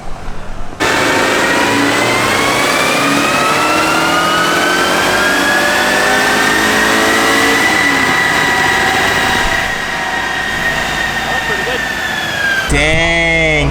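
A turbocharged Mitsubishi engine in a Mirage build runs on a dyno, its loud steady pull rising in pitch through a long sustained rev before cutting off near the end.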